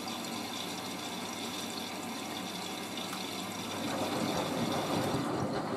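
Water rushes steadily into the drum of a Miele W562 Prestige Plus 6 washing machine washing a bathrobe, a continuous close hiss and splash that swells louder toward the end.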